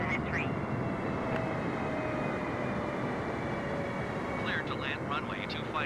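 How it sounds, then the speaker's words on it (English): Boeing 747-8 descending to land at Sydney Kingsford Smith Airport, heard as a steady, loud broadband roar of engine and airflow throughout, with brief faint chirps near the end. "Lowering the plane and cleared to land."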